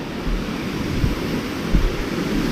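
Heavy, steady roar of rushing water at the Madongan Dam in Dingras, Ilocos Norte, a dense, close wash of noise buffeted by wind against the microphone, with no voices during it.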